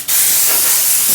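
Wood for a floating shelf is hand sanded with 320 grit sandpaper, making a loud, steady, close-up hiss of abrasive rubbing that runs without a break.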